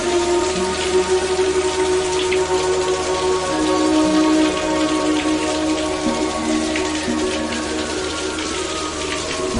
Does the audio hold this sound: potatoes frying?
no